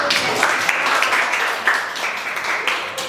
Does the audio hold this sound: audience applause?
yes